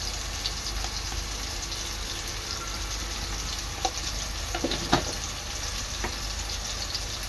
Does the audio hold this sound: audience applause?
no